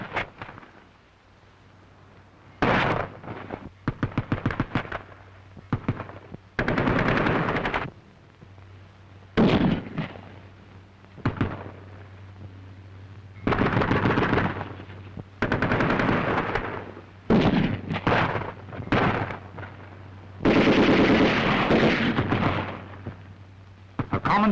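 German infantry squad machine gun and rifle fire in a wartime training film, with loud bursts and volleys broken by short pauses and a steady low hum.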